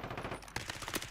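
Rapid gunfire from a video game crackles in dense bursts, a few sharper shots standing out, loud and close throughout the short stretch.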